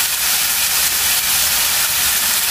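Chopped medium tomato sizzling in a pot of cooking meat, a loud, dense and steady hiss from close by with no pauses or talking.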